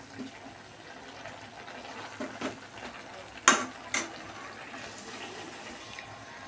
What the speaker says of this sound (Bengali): জাস্ট আমি একটু নাড়াচাড়া করে নিচ্ছি।